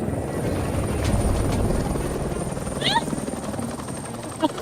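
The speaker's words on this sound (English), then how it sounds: "I'm hearing a helicopter." Constant rotor drone of a helicopter overhead, steady and fairly loud, with a few brief voices and chirps on top.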